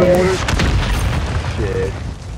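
A mortar shell bursts in an online shooter game, a heavy booming blast with rumbling decay, while players' voices talk over it.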